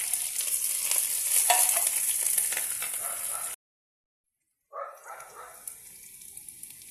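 Bay leaf, onion and green chili dropped into hot oil, a loud continuous close sizzle with stirring, a sudden break in sound, then a quieter frying hiss resumes.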